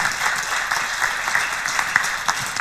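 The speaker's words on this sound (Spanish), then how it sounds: "Un aplauso para él, gracias por acompañarnos." An audience applauding to welcome a speaker at a talk on the European Union as a centre for research in freedom, close dense clapping that is sustained and even, with no one speaking.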